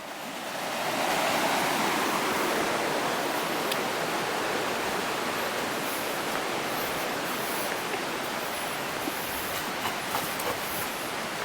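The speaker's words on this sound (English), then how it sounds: "This is the actual tunnel carrying the water as a diversion, so this would be like a sluice" Water rushing steadily through a diversion tunnel sluice beside an old dam in East Ayrshire, a broad, continuous roar that swells in within the first second and holds at an even, fairly loud level.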